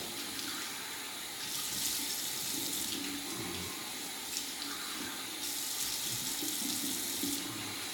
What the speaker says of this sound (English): I'm just rinsing my face off because I noticed I got a lot of residual water from the shower